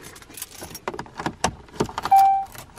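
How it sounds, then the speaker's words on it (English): Keys jangle and rattle in the ignition of a big truck for a couple of seconds, ending in a short steady electronic chime as the truck switches on. "I'll turn on my truck and show you."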